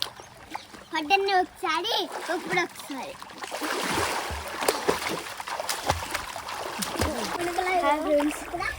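Children splash and bathe in a water tub, with bursts of sloshing and splattering water up close while kids chatter and shout over it.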